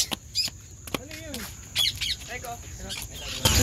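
A green Indian ringneck parrot gives sharp squawks and chirps at close range, scattered and irregular, with people talking nearby.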